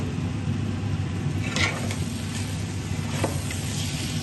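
Ginger garlic paste frying in a pot for camel meat biryani, a low steady sizzle with a couple of brief stirring scrapes, no talking.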